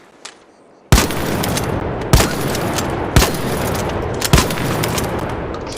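Toro shotgun blasts in a video game fire in four loud, heavy booms, roughly a second apart, each with a rumbling tail, after a brief faint click.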